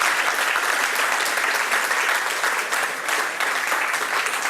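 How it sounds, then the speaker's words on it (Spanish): Sustained applause from an audience at a book fair author talk, steady and fairly loud throughout with no pauses. "un aplauso para Carla"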